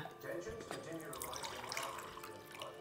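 An android pours coffee in Detroit: Become Human, a faint liquid trickle into a cup beneath soft background talk.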